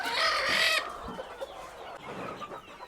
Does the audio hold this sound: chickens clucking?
yes